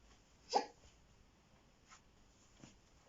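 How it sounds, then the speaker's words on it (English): A single soft hiccup from a boy, faint and a little distant in a quiet room where someone crochets, followed by a couple of even fainter catches. "Right, he's got the hiccups."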